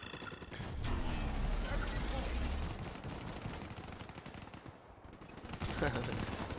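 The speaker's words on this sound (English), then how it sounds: "Trying to shoot." Rapid automatic gunfire in the shooter Call of Duty Black Ops 3, dense close bursts over game noise with talking, fading briefly before resuming.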